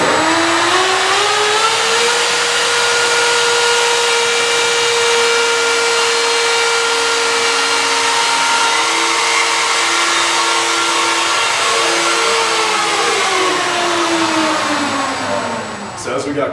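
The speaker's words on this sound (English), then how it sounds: "two small three-phase motors, both run through PWM signal speed controllers" A small hovercraft's lift and thrust fans, each driven by a small three-phase motor on a PWM speed controller, hum in a loud steady whine that shifts pitch partway through and tapers off at the end.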